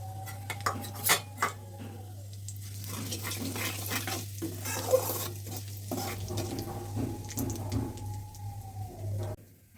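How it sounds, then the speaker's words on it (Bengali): Nigella seeds crackle and sizzle in hot oil with occasional scraping and clinking of a utensil against the pan, over a steady low hum. "এবার দিয়ে দেব কালো জিরে ফোড়ন"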